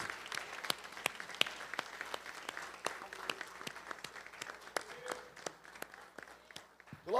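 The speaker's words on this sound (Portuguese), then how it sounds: "E aplauda o nome dEle" Scattered clapping from a congregation inside a church, individual hand claps spread across several seconds, fairly sparse and moderately distant, with faint voices in the room.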